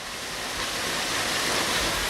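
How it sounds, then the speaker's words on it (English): Waterfall on Mount Tambourine roaring as a steady, dense broadband rush, close and continuous throughout with no other sounds. "Lovely waterfall right here"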